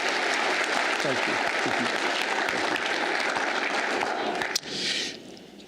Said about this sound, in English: Please, another round of applause for them as they return to their seats.